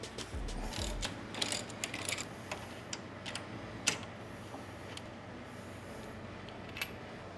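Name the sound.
ratchet with 3/4 socket removing motorcycle shock bolts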